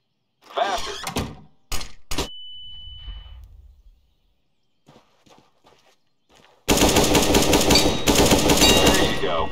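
Gunfire in Counter-Strike: Global Offensive, a pistol heard as a few sharp separate shots near the start and then a dense, loud, sustained volley at the end, with a quiet stretch between.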